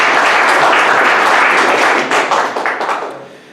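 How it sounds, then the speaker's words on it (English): A conference audience at the Paris COP-21 gathering breaks into a round of applause, loud and dense clapping that holds steady before tapering off near the end. "Shall we give him a round of applause?"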